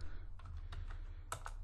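A short flurry of close keyboard clicks as a command is typed, a few separated taps followed by a quicker pair near the end, over a low steady hum.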